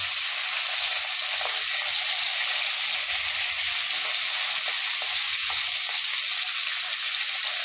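Fish going one at a time into a hot pan for tinola, giving a steady, loud frying sizzle with faint crackles throughout and no talking.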